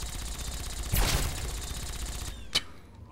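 Gunfire in the video game Fallout 3, with a burst of rapid shots followed by a single sharp crack, heard over a constant background hum of game ambience.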